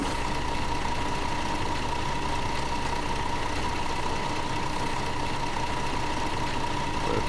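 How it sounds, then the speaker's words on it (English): Engine of a tourist bus in a driving simulation game idling in a steady, even drone with a constant tonal hum, unbroken and alone. "we'll turn the engine on."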